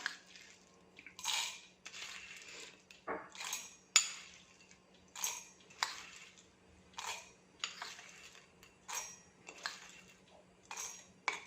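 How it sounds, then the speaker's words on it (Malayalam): Dry roasted gram rattles into a mixer jar for coconut chutney in about a dozen short, scattered bursts separated by quiet pauses. "ഈ ജാറിലേക്ക് നമുക്ക് ആവശ്യത്തിന് പൊട്ടുകടല ചേർത്ത് കൊടുക്കാം."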